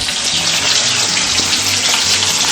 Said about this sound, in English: So this is the fresh fish and we are frying in hot mustard oil.